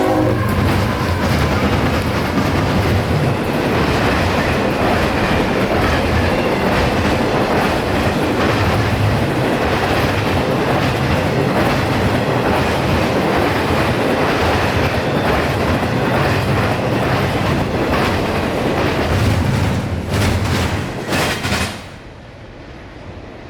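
Freight train QO46, a short intermodal in Central Florida, charges up a hill at night, roaring loudly and close with continuous rail clatter and horn blasts, then cutting off abruptly near the end.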